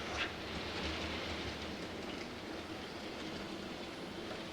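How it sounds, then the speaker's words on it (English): An old Atlas model train locomotive runs on a layout, giving a steady, continuous mechanical rumble and whir at moderate level throughout, with no talking. "This old Atlas locomotive sometimes"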